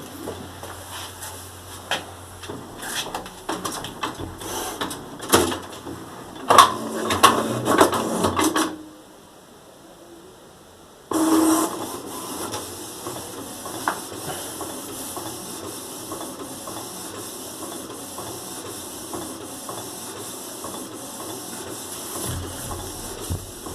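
A printer runs a page, giving a busy mechanical hiss and clatter of feed and print-head movement, then a brief near-silent pause before the steady whirring resumes and carries on to the end.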